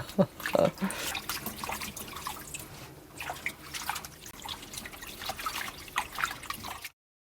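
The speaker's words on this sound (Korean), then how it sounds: "요거를 이렇게 물에 푹 이렇게 담근 다음에 살랑살랑 흔들어 주세요" Fresh spinach is dunked and gently swished in a bowl of water to rinse off fine sand, giving soft irregular splashes and drips close by that stop abruptly at the end.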